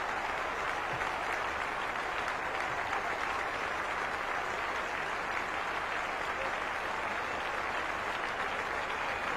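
Sustained crowd applause at a Kennington cricket Test between England and Pakistan, greeting Salim Malik's century; a steady, dense wash of clapping from a large crowd throughout, with no talk over it.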